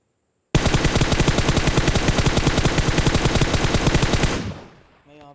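Automatic weapon fire in the mobile game Battlegrounds Mobile India: a loud, close, unbroken rapid burst lasting about four seconds, then an abrupt stop with a fading tail.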